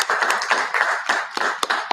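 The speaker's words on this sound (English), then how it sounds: "give a round of applause for yourselves" Scattered applause from an audience at a sustainability conference event, a short burst of uneven individual hand claps rather than a dense ovation.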